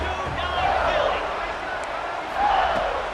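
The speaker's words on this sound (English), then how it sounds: "they are an intimidating crowd" Stadium crowd roaring in EA Sports College Football 26, a loud continuous wash of massed yelling and babble that swells near the start and again toward the end.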